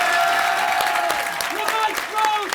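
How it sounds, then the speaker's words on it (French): An improv theatre audience at a Paris improvisation festival claps steadily in a continuous wash of applause, while a host's voice calls out over it. "Public! Applaudissez!"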